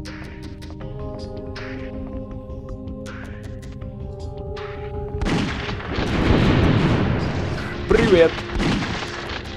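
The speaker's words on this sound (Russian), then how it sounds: "Сколько было выстрелов с дробовика?" Shotgun blasts from the PSOne shooter Alien Trilogy, a burst of loud booming shots in the second half, heard under a voice talking throughout.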